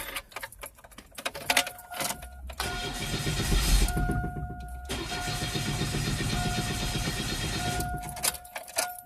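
A Chevrolet Cavalier engine cranks after an injector replacement: keys jangle, then the starter whirs in steady rhythmic bursts with brief pauses between them, close and fairly loud, with no voice.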